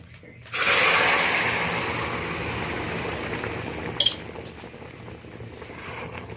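Curry mixture poured into a pan of hot oil with black cumin, cumin, bay leaf, dried chilli and curry leaves, bursting into a loud, close sizzle that slowly settles, with a brief clink of a utensil midway.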